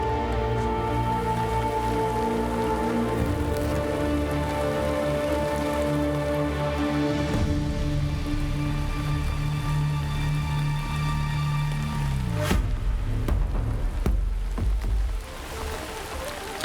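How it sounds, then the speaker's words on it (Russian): Steady rain patters continuously in Assassin's Creed Shadows, with a constant dense hiss of drops over a low ambient music bed and no voices. "мне нравится вот этот момент с дождем"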